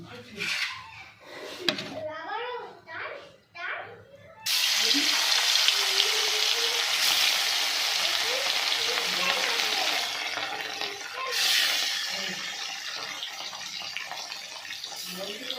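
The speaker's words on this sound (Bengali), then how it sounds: "এবার আমি ওইগুলোকে হালকা করে একটু ভাজা করে নিচ্ছি" Small fish fry lightly in oil already used for frying other fish. After a few seconds of voice and clatter, a strong, continuous close sizzle takes over, swelling slightly now and then.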